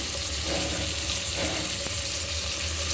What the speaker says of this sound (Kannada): ಇವಾಗ ಸ್ವಲ್ಪ ನಾನು ಹಾಲನ್ನ ಹಾಕೋತಾ ಇದ್ದೀನಿ